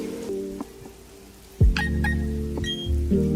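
Rain effect from the Rain Dance move in Pokemon Brilliant Diamond, with game chimes and tones first, then a sudden loud burst into a steady rushing rain layered with musical notes.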